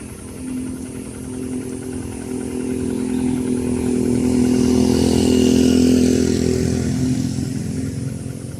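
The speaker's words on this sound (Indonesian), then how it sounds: "kendaraan roda 4 maupun roda 2 masih bisa berlalu lalang meskipun bergantian." A passing vehicle rumbles along a landslide-prone mountain road on the Gladak Perak route, its engine drone swelling as it approaches, peaking loudly near the middle and easing slightly as it continues by.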